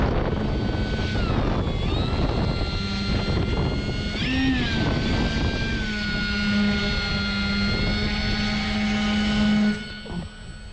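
An FMS ASW 17 RC glider's electric motor runs at launch, a steady high whine with shifting tones that holds loud throughout, over outdoor wind noise, before cutting off near the end.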